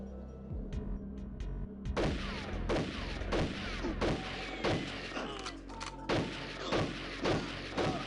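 Shotgun blasts in GoldenEye ring out one after another, about a dozen heavy thudding shots in a steady rhythm, close and punchy over a low background hum.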